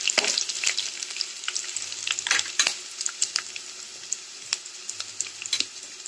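Crushed fresh garlic frying in oil in a pan for an Andhra-style cabbage curry with coconut and chana dal, giving a steady close crackling sizzle broken by sharp spatters and stirring scrapes, with no talk.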